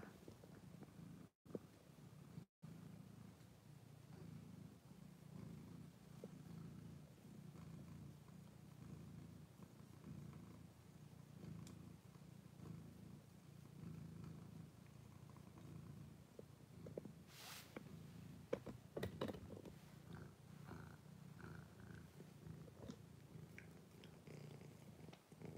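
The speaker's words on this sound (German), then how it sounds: "Hört ihr es schnurren?" A cat purrs softly and steadily close by, a low continuous rumble with a few faint clicks and rustles partway through.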